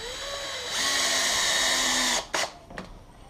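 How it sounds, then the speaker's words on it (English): Cordless screw gun running with its clutch off, driving screws into a homemade wooden landing gear outrigger pad: a steady whine lasting over a second, cutting off sharply, followed by a couple of short bursts. "I don't like using the clutch on a screw gun"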